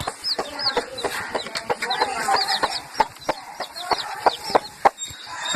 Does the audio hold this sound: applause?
no